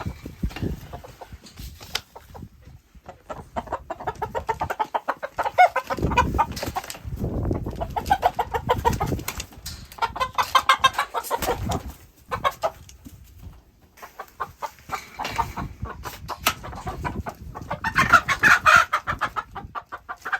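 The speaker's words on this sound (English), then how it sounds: "So now we have 7 more chickens to put in with these ladies" Chickens of a barnyard mix cluck and murmur in a barn, a near, busy flock with irregular bursts of calls and scratching over about twenty seconds.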